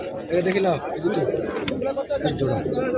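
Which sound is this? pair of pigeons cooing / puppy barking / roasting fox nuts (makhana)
pair of pigeons cooing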